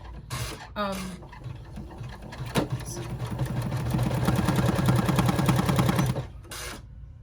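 An embroidery machine stitching colors onto a doll-sized rucksack, a fast mechanical rattling hum that builds and runs steadily at close range, with a voice talking briefly at the start.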